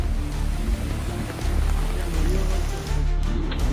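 Heavy rain pouring down during record-breaking downpour, a steady dense hiss of falling water with a low rumbling undertone throughout.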